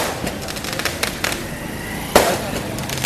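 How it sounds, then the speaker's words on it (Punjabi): Sharp firecracker pops crackle in a scattered series at an opening event, ending with one louder bang, over a steady outdoor traffic rumble. "ਪੈਂਦੇ ਪਟਾਕੇ"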